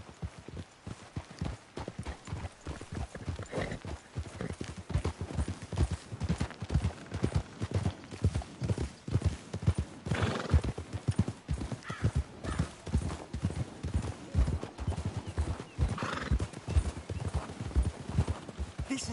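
Rhythmic clip-clop of horse hooves at a brisk gallop in the video game Red Dead Redemption 2, with an occasional neigh, continuous and fairly close.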